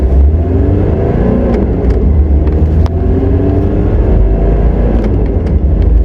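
Cabin-side roar of a turbocharged JDM Mitsubishi Pajero 4x4 accelerating at full throttle, loud and continuous engine drone with rising whine, no talk over it.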